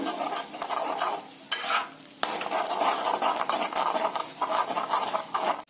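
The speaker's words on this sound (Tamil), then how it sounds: "நல்லா கலக்கி விட்டு வேகட்டுங்க" Drumstick leaf thokku is stirred in an oily pan, a steady scraping and mixing under a continuous close sizzle of frying, with a few sharp utensil knocks against the pan.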